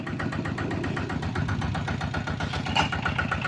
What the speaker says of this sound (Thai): อยู่ขี่รถขี่รถอีแตก